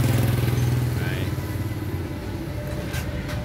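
A Honda Nova Tena 110 motorcycle with a newly fitted gold DID chain and sprocket set runs smoothly, giving a steady, close engine drone with a low, even throb throughout.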